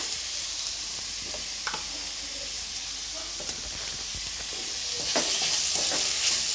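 Masala for bread toast fries and sizzles in oil while a spoon stirs it, producing a steady hiss with scattered scraping clicks that grows slightly louder near the end, with no talking.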